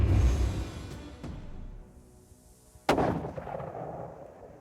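A hunting rifle is fired at a bull during a hunt: one loud, sharp shot rings out with a long echo rolling away outdoors, following a fainter earlier crack.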